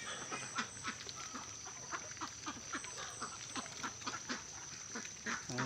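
Ducks quacking and dabbling steadily while feeding on water spinach (kangkong) mixed with rice bran, a busy overlapping chorus of close, repeated quacks with bursts of bill-slapping throughout.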